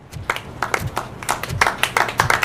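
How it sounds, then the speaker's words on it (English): Clapping in the RoboCop video game, with a few people applauding in uneven, moderately close bursts of sharp claps over two and a half seconds. "Clap."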